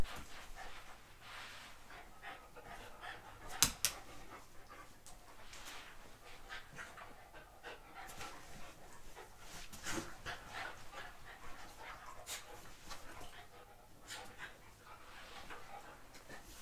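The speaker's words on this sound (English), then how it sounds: "Anytime I get in the floor, they think I'm here to play with them." Dogs pant and scuffle playfully near the floor while their owner stretches indoors, a faint, steady rhythm of breaths with occasional small thumps and yips.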